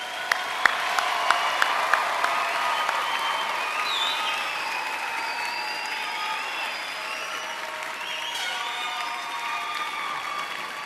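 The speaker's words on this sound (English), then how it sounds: "How about another big round of applause congratulating our graduates?" An audience at a fall graduation ceremony applauds and cheers the graduates with sustained, even clapping, a few sharp claps standing out near the start and faint whoops drifting through.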